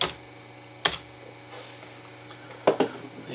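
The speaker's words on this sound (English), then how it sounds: "let's go to Google Chrome and let's type" A web address is typed on a computer keyboard in two quick clusters of close, crisp key clicks over a faint steady hum, with a quiet pause between the bursts.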